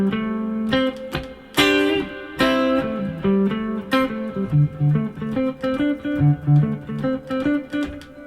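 An electric guitar plays a freeform blues lead riff with clear plucked notes and a few strummed chord stabs early on, then a bouncing run of single-note phrases. It is close, clean and unaccompanied, with no talking.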